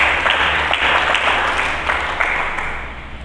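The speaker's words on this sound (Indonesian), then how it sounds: "Mari kita berikan tepuk tangan yang meriah." A church congregation applauding steadily, dense broadband clapping that fills the space at an even level throughout, with no voices over it.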